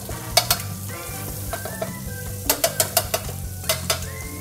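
Pork chops fry in a pan with a constant close sizzle, broken by a string of sharp metallic clinks and scrapes as a utensil stirs and taps against the cookware.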